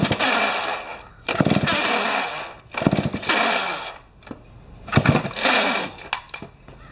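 A 1968 Homelite XP1020 chainsaw with very high compression being pull-started, four loud rasping bursts of cranking a second or so each, separated by short pauses, close by with no engine catching.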